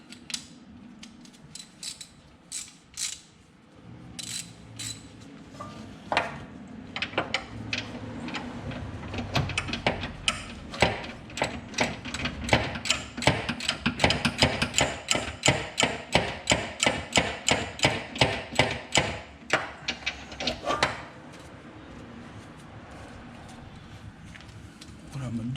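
A ratchet wrench cranks on camber arm bolts under an Acura TSX, rapid regular clicks building in bursts with some metallic clanks and someone talking at times.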